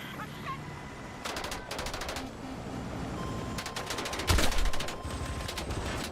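Machine gun fire in a video game rattles in repeated rapid bursts, moderately loud over steady background game noise, with one heavier impact partway through.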